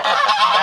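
A mother goose alone in her run gives one brief, loud, close honk, a raspy nasal burst.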